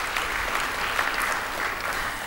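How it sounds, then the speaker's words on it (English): An audience at a graduation ceremony claps steadily, a dense continuous patter of many hands holding an even level throughout, with no talk on top. "big clap to our industry captains who are with us today."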